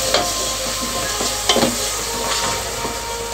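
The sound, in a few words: garlic paste added to frying pan and stirred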